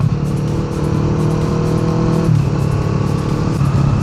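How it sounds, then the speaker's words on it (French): A 1994 Honda CB500 twin-cylinder motorcycle engine-brakes down the descent of Mont Ventoux. Its engine drones steadily, loud and close, throughout, with no talking. "La CB500, vu que c'est un bicylindre, elle a, tu vois, elle a un plus gros frein moteur que la Z."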